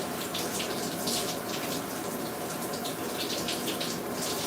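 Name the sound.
shower water running while rinsing beard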